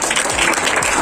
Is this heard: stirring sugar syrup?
no